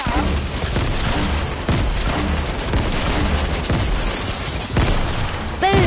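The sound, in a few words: grenade launcher firing and explosions in a video game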